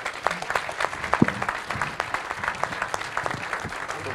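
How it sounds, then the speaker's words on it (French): Audience applause for a round-table panel at an economics conference, a dense run of many hands clapping with a few sharper nearby claps standing out, steady throughout. "je crois qu'on peut applaudir notre panel"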